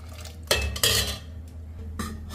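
A spoon scrapes and clinks against a pot as milk and sugar are stirred for misti doi, with several sharp metallic strokes over a soft background simmer and no talking.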